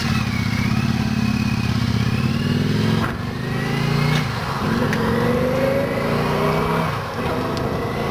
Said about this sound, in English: And that's Bob riding off into the distance.